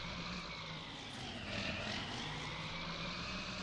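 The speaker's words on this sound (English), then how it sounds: "this bad boy is, it's a little loud, but it's an awesome old tractor" An old tractor engine in the video game Farming Simulator 19 runs with a loud, steady, buzzing drone that swells slightly partway through and then holds.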